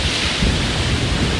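Ocean surf at Hollywood Beach, Florida, with rough waves and a strong current, a dense continuous wash of breaking water mixed with wind buffeting the microphone.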